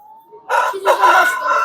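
A rooster crows at a poultry market in Tuzla Aydınlı, Istanbul: one long, loud, harmonic cock-a-doodle-doo rising after a faint lead-in, close by with light background murmur.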